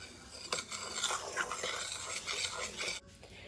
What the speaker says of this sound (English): give this a quick stir until everything is well combined